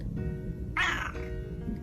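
A senior cat gives a single short meow partway through, fairly quiet against a low background hum.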